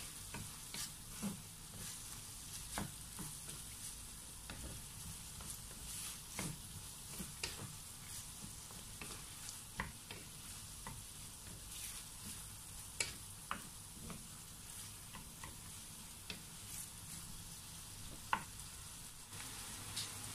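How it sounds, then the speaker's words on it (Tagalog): Chicken gizzards and hearts with chopped green and red bell pepper being stirred in a pan, with steady soft sizzling and scattered scraping clicks of the utensil throughout, no voices. "saka natin ito haluin to mix all the ingredients na nilagay po natin"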